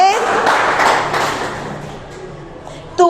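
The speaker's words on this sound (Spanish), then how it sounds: "Denle un fuerte aplauso a Jesús" Church congregation during a Spanish-language service breaks into brief clapping and cheering, a moderate burst that fades toward quiet before a sharp knock at the end.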